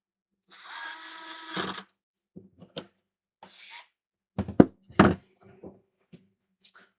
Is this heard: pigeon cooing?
no